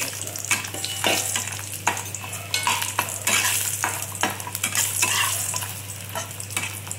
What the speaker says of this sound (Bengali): এবার বড়িটা আমি ভেজে নিচ্ছি